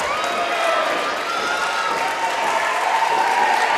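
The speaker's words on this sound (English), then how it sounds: "this crowd is as hot as I've ever seen them" A hot wrestling crowd roars with sustained cheering and applause, a dense steady wash of noise that stays loud throughout with no pauses.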